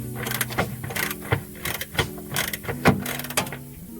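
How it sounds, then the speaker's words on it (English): A top bolt on a Nissan Sentra rear shock is unscrewed with a ratchet, giving close, repeated clicks and short mechanical rattles in an uneven rhythm. "go to the top and start unscrewing your top bolt"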